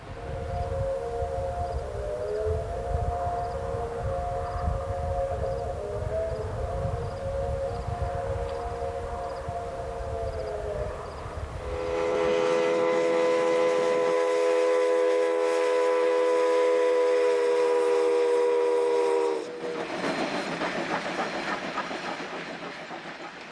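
Three steam locomotives run as a triple header, backing up after coming down the downgrade from McMullen Summit, sound long sustained chime whistles. One whistle holds, then a louder blast from another takes over, then a different tone, all close and continuous.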